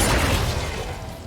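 The Incendio fire spell is cast in Hogwarts Legacy, a loud, broad roaring whoosh with a rumbling low end that fades slightly over its short length.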